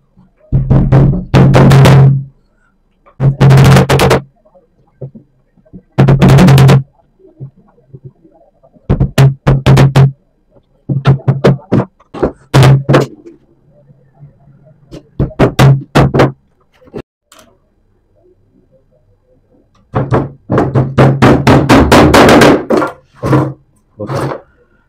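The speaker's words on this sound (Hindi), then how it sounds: "थोड़ी थोड़ी दूरी पर इस तरीके से कीले इसमें लगा देंगे।" Nails hammered into a wooden screen printing frame with stretched cloth: loud, sharp hammer blows in rapid bursts of strikes separated by short pauses, close up and alone.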